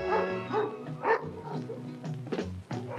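Several house dogs bark and yip in a noisy crowd at a house dog beauty contest, with overlapping, continuous barking close by and some whining tones.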